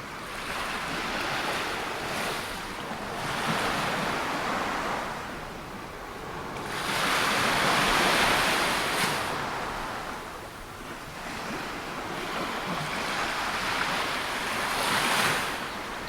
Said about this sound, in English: waves in the distance.